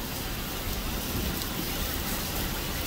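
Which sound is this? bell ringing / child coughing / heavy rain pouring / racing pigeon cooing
heavy rain pouring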